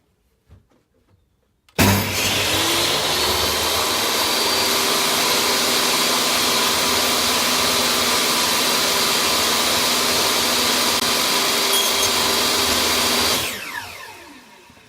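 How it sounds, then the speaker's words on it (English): A power tool cuts a notch into the bottom of a panel for an A320 build. It is loud and steady with a continuous whine from about two seconds until it winds down near the end, and no one talks. "now I'm just going to cut the opposing notch in the bottom of this piece"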